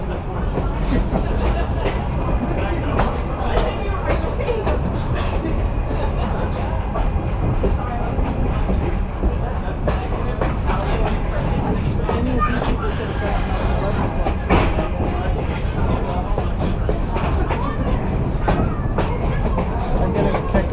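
Passenger carriage of the Oregon Coast Scenic Railway rolls along the rails between Garibaldi and Rockaway Beach, a steady close rumble punctuated by repeated clicks and clacks of wheels over rail joints.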